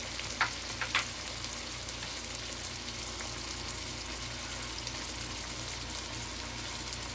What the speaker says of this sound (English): I'm going to go ahead and continue to stir these up a little bit.